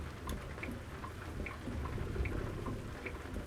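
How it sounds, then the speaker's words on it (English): Steady rain hiss with low rumbling thunder in American Truck Simulator, a night drive in Texas; the downpour stays constant and fairly loud while the thunder swells gently underneath, with no voices. "Oh, little lightning and thunder."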